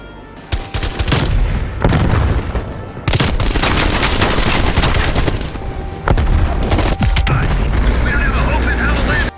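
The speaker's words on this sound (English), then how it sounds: "Every weapon sounds different, from the pop of the 1911 pistol to the boom of a sniper rifle" Heavy gunfire and explosive booms in the video game Call of Duty Black Ops Cold War, loud bursts and blasts with brief gaps between rapid volleys, with someone talking over them.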